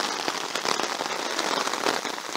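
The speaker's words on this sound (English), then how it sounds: "Yep, it's raining. Raining. It's raining again." Steady rain pours down on a bushwalk at Mt Damper Falls, a dense, close patter of drops striking surfaces that stays constant throughout with no voices.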